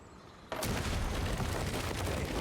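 An explosion in the video game Uncharted 4 bursts in suddenly after a quiet moment, a loud sustained roaring blast that fills the space and keeps rumbling without letup.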